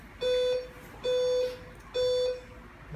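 A Beckman MEC-1200 patient monitor sounds its alarm in three evenly spaced, sustained electronic beeps, each about a third of a second long, clear and close against a quiet room.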